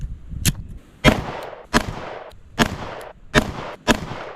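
A Sig X Macro pistol fires V-Crown rounds at a target 10 yards away, six sharp, loud shots spaced about half a second to a second apart, each with a brief ringing decay.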